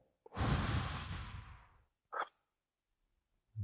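A deep breath drawn in and let out in one long, audible exhale of about a second and a half, close and alone in quiet, followed by a brief softer breath and a faint low sound at the end.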